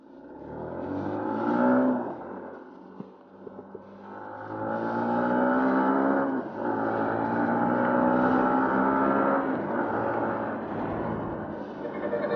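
A Yamaha Sniper 150 motorcycle accelerates hard, its engine note loud and close as it climbs in pitch, with a brief dip between gears before pulling strongly again. No one speaks.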